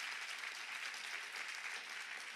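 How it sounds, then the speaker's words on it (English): Conference audience applause, a steady dense patter of many hands clapping throughout, moderately loud and even with no voices over it. "Let's give her a big round of applause as well."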